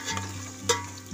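Mashed mutton being stirred and mixed in a pot for Nanded-style haleem, with a soft scraping churn, a light sizzle underneath and one sharp clink of the spoon near the end.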